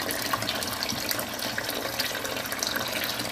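Steady water streams and splashes over a camera under test, a continuous close rushing wash with no pauses.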